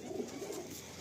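A male pigeon at a Kolkata pigeon sale gives a short, low, throaty coo in a couple of soft pulses, close by over faint background noise.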